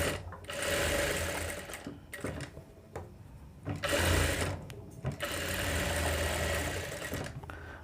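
Electric sewing machine running in bursts as it stitches a boat-neck blouse lining at the corner, steady whirring runs broken by short pauses, close and fairly loud, with no talking.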